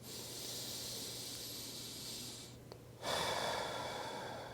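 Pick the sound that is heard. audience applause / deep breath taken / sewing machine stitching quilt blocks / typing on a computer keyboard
deep breath taken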